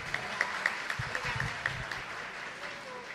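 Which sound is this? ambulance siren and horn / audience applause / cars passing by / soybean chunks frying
audience applause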